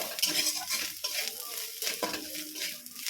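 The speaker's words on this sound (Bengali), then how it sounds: "তবে নাড়তে থাকবো যতক্ষণ না তেলটা বেরোচ্ছে" Coconut masala filling with cumin, green chilli and oil frying for potol dolma is stirred in a pan, giving a close, quiet sizzle broken by repeated scraping strokes and light utensil clinks.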